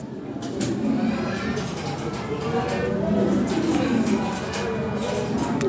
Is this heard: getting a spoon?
no